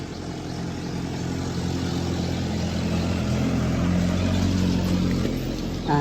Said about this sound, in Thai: ติดเครื่องนะครับ ติดเครื่องแล้วนะครับ